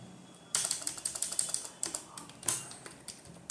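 Code being typed in Notepad on a computer keyboard gives a rapid, steady run of close key clicks after a short quiet start, continuing to the end with no speech.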